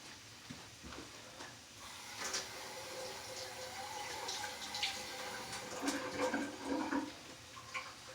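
Water runs from a kitchen tap as mushrooms are rinsed under it, a faint steady splash with small clatters and handling noises, no voices.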